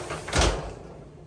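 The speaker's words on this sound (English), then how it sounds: "Retractable shower door." Retractable shower door in a 2022 Grand Design Transcend Xplor 321BH travel trailer sliding, one brief close swish with a soft thump at its peak, then a fading rustle.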